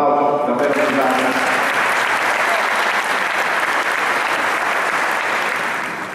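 Audience applauds throughout an award ceremony in the CONI hall, dense steady clapping from a large crowd that holds loud and continuous, easing only slightly at the very end.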